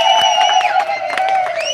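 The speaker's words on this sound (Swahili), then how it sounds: "Wow, makofi jamani." Wedding guests cheer and whoop for the bride, with sustained high ululating tones and scattered claps rising over a lively crowd throughout.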